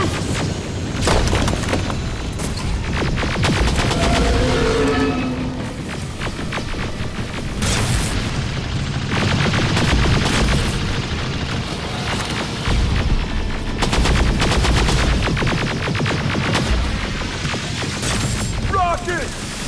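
Gunfire and explosions from the video game Terminator: Resistance: loud repeated booms and bursts of shots through a chaotic firefight, with shouting voices over the din.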